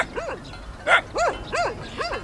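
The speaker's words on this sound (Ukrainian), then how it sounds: "І трохи сваряться собаки з нами." Several sharp barks from sheepdogs herding a large flock of sheep in Moldova, in quick succession, fairly close, with rough outdoor background noise and no one speaking.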